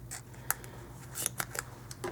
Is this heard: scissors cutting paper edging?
yes